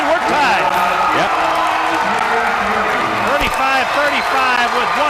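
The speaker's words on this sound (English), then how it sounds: "that gets some noise and excitement out of the St. Joe crowd here tonight" Saint Joseph's home crowd cheering and applauding at a 1993 men's college basketball game, a loud sustained roar of voices and clapping with whoops over the arena, with a commentator talking.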